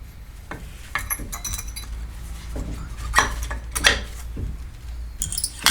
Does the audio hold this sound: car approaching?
no